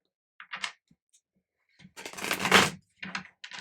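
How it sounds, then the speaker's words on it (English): A Goth Tarot card deck is shuffled by hand in short, soft papery bursts: a brief riffle, a longer rustling sweep, then a few quick flicks, close and quiet with no talk. "I'm just going to give the last deck a little shuffle through."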